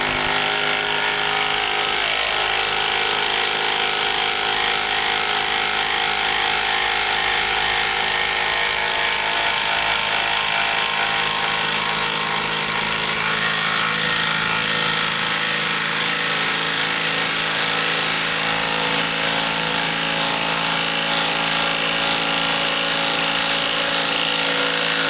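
A Greenworks cordless impact driver drives a fastener, a loud continuous rapid hammering buzz that strains and shifts pitch as it works, running unbroken and close up for the full stretch.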